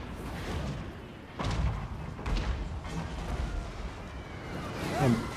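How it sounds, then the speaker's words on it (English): Trebuchets and cannons in a Total War Warhammer Empire siege battle fire in several dull, booming thuds, about three heavy impacts spread over a few seconds, layered over a constant rumble of battlefield noise. "Their trebuchets are firing back."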